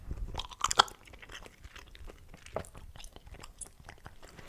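Spearmint chewing gum being chewed close to the mic, with moist crunchy clicks and smacks in an irregular, continuous rhythm, with no talking.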